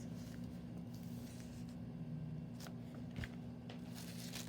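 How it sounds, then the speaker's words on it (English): Thin old encyclopedia paper is handled close up, giving soft crinkles and rustles with a few sharper crisp flicks over a low steady hum, quiet and without talk. "Old, this paper is so old, it's from an encyclopedia. Can you hear that? That's how thin it is."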